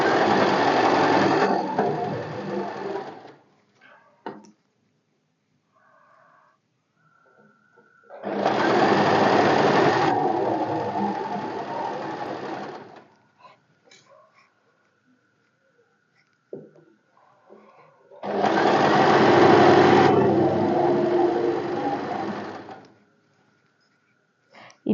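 A sewing machine stitches a deep-neck kurti in three long bursts of rapid mechanical whirring, each several seconds long, close and loud, with quiet pauses and faint handling noises between runs.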